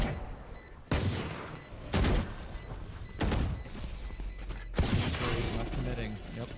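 Killjoy's turret firing in Valorant during a college esports match, with sharp bursts of gunfire in several separate volleys and a caster talking over the action.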